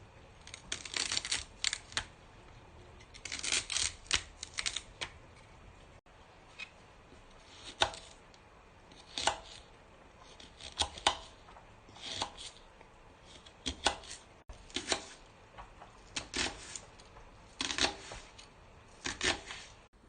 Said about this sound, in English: I'm going to chop the vegetables.